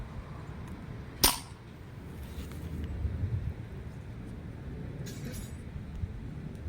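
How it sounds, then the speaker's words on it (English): A tiny three-shot Nerf micro shotgun fires half darts: one sharp, loud snap early on and a fainter burst later, over low background room noise. "Just throw 3 rounds in there, prime it, and get this started."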